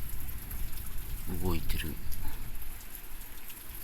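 Typhoon rain falling, a steady, loud, continuous hiss and patter of heavy rainfall, with someone briefly speaking over it.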